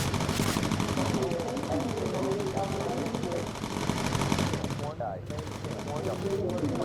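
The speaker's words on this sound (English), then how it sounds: "Get ready to hose them down with some focused fire here." Sustained rapid machine gun fire from bomber turrets in the Bomber Crew video game, dense and loud throughout with a brief break midway.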